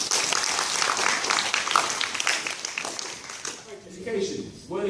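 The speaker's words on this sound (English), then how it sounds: "Give him a round of applause." An audience in a classroom applauds, a busy patter of many hands under a speaking voice, swelling and then thinning out as talk takes over near the end.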